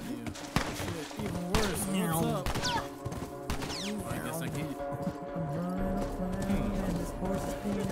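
Galloping horse hooves in The Last of Us video game, a steady clip-clop rhythm running under overlapping speech and game noise, with sharp gunshot-like cracks mixed in.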